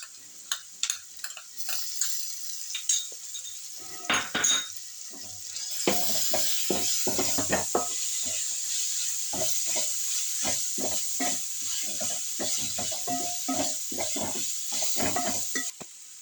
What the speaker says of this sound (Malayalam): ഇനി അതിലേക്ക് ഇഞ്ചി വെളുത്തുള്ളി പേസ്റ്റ് ചേർക്കണം.